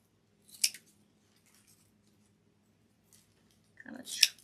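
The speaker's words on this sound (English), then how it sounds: "Kind of trim those little tails up" Scissors trimming ribbon tails on a Dollar Tree wire cross Easter wreath: two crisp, close snips, one early and one near the end, separated by a quiet stretch with a faint low hum.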